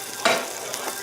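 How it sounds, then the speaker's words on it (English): Butter frying in a pan, a soft sizzle that swells briefly near the start and then settles into a faint, steady crackle. "again, frying this butter up here"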